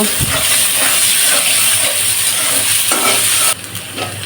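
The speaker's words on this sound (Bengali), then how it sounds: "পেঁয়াজটা লাল লাল করে ভেজে নেব" Sliced onions frying in a modest amount of oil in a pan for a rohu fish dish, a loud steady sizzle and crackle throughout with brief stirring scrapes, dropping slightly near the end.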